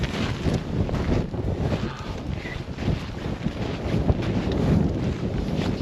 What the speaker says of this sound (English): But the wind is blowing, it's quite hard.